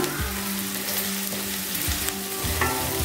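Chopped onions sizzle steadily in a hot pan, with a spoon scraping and stirring through them several times, close and loud.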